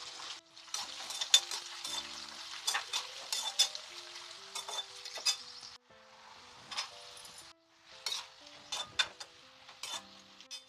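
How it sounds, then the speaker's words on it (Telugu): Sliced onion and green chillies frying in hot oil as the tempering for a cucumber, amaranth and tomato curry, with a steady close sizzle broken by sharp clinks and scrapes of a spoon stirring in the pan. "ఉల్లిపాయ పచ్చిమిరపకాయ వేగుతూ ఉంటాయి."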